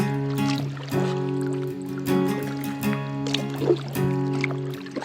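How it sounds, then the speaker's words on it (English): Kayak paddle strokes dip and splash in steady rhythm on open water, close by, under a persistent tonal hum and a few louder sloshes. "Let's get started on the paddling today."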